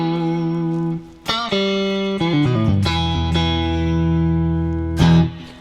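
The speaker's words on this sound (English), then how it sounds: "Telecaster tone with some vibrato and a little bit of reverb." Clean Telecaster electric guitar notes and chords with a wavering vibrato and a light reverb tail, several plucked attacks ringing out in sequence.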